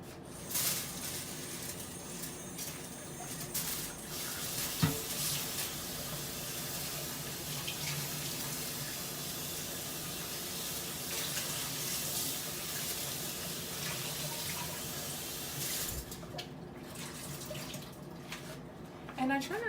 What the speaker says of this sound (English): I'm going to give this a quick rinse